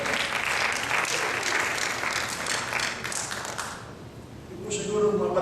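Audience applause from a crowd at a gathering, dense and steady for about four seconds, then thinning out before a brief louder burst near the end.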